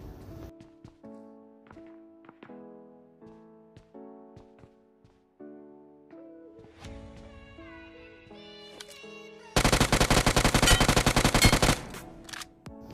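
A PUBG gunfire spray downing an enemy: scattered single shots and taps over quiet game music, then a loud, rapid automatic burst lasting about two seconds before it cuts off.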